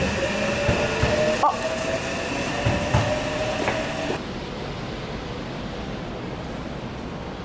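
A train at a station platform on a rainy day, a steady rumbling roar with a tonal hum and a few clanks that drops abruptly to quieter ambience midway; a voice briefly exclaims.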